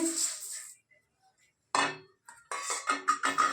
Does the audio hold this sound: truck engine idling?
no